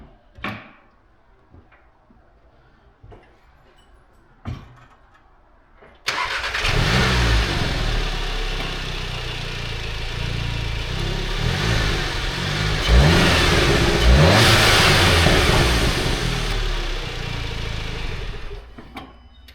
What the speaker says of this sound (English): get some before revs of the intake noise